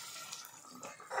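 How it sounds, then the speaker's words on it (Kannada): Prepared corn water poured into a pan of sauce while cooking paneer satay, a soft, faint liquid trickle and splash with no talking. "ಕಾರ್ನ್ ನೀರನ್ನು ರೆಡಿ ಮಾಡ್ಕೊಂಡಿದ್ವಲ್ಲ ಅದನ್ನು ಇದಕ್ಕೆ ಹಾಕೊಂಡ್ಬಿಡೋಣ"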